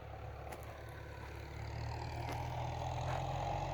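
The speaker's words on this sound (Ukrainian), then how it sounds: "трактор з оприскувачем" A tractor pulling a crop sprayer across a soybean field runs with a steady low engine drone, continuous and moderately loud, with no talk.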